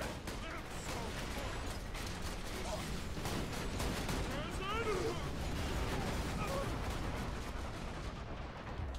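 Enemy gunfire in Borderlands 2 rattles in dense, continuous bursts of rapid shots, loud and unbroken for the full nine seconds, with a crowded mix of game sound effects layered underneath.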